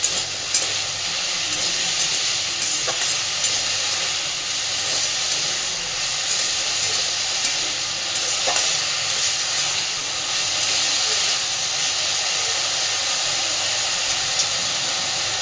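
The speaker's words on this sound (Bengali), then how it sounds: "আলু আর বেগুনটাকে একটু ভেজে নিতে হবে আগে।" Potato and brinjal frying in oil in a pan, a steady loud sizzle and hiss that runs unbroken throughout, with faint stirring scrapes and no talk.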